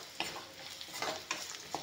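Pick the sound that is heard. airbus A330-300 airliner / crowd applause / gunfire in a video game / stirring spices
stirring spices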